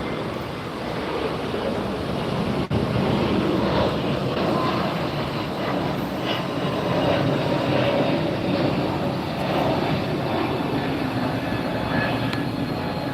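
A United airliner taking off at LAX produces a continuous broad jet roar that holds steady throughout, heard from a distance in open air with no talking.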